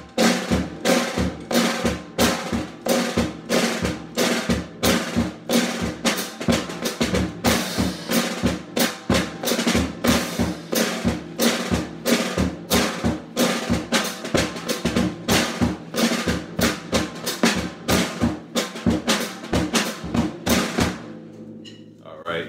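A band plays a march-style Big Four rhythm with a driving, evenly pulsing beat and accents falling on beat four, loud and continuous for about twenty seconds before stopping abruptly.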